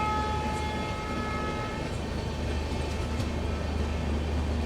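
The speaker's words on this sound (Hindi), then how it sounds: "तो भाई सामने से आ रही है train number 20175 Banaras Agra cantt Vande Bharat express." The 20175 Banaras–Agra Cantt Vande Bharat Express rolls past with a loud, steady rushing rumble that fills the whole stretch, with no voices.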